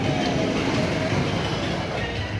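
The Blue Fire roller coaster train at Europa Park rumbles past on its track with a steady, close rolling roar and faint clatter throughout.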